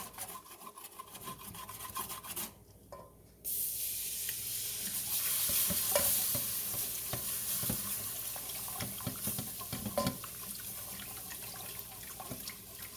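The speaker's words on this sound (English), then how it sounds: "now I'm gonna mix in my milk" Milk being stirred into stovetop mac and cheese, a steady wet scraping and swishing of a spoon in the pot that pauses briefly, then resumes with soft clinks and rubbing.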